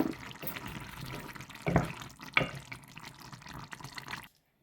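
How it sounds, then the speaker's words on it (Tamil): Tamarind water poured into a pot of fried brinjal kuzhambu, a close splashing trickle with a couple of louder splashes that stops abruptly near the end. "கொஞ்சமாக புளி விடுவேன்"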